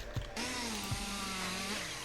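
A chainsaw revs to a sustained whining roar for the Chainsaw Mutilate move in the fighting game Project Baki 4, loud and continuous after an opening thud, with a couple of heavy impacts landing under the buzz.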